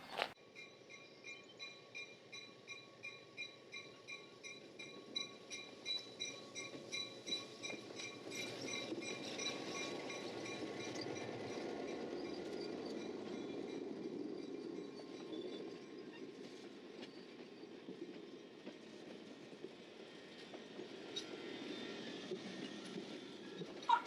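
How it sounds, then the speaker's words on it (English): A Cape Cod Central Railroad train rolls along the rails, heard from inside the club car as a steady low rumble with rhythmic wheel clicks and faint squeal, holding at a moderate, even level throughout. "So we're here on the club car on the Cape Cod Central Railroad."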